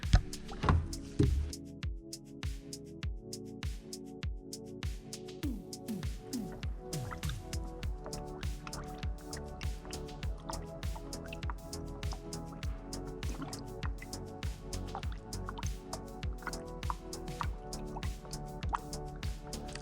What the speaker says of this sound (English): This is 5 liters. This all needs to go in the radiator.